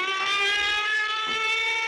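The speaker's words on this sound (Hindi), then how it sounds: "पुलिस का सायरन" Police siren in a Bollywood action film, a steady rising and falling wail with a bright harmonic tone held loud and unbroken through the short excerpt.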